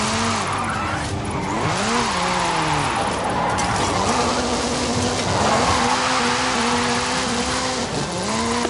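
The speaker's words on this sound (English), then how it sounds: "This is Mr. Kenneth Block's Hoonigan Gymkhana 10 Ford Focus RS RX. 2-litre, turbocharged, front-mounted engine and all-wheel drive." Ken Block's Hoonigan Gymkhana 10 Ford Focus RS RX, a 2-litre turbocharged front-engined all-wheel-drive rally car, racing in Forza Horizon 5: a loud engine revving continuously with rising and falling pitch sweeps and occasional tyre squeal.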